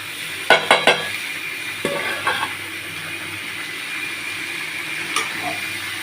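Boiled banana flower with green peas and raw chickpeas, cooked in salt and turmeric, is tipped into a hot pan. A few sharp metallic clatters give way to a soft sizzle, with one more clink later.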